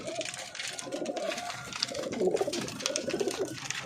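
Fancy-breed pigeons kept in a small hobbyist's loft coo in low, throaty rolls, several soft repeated calls close by over a faint background.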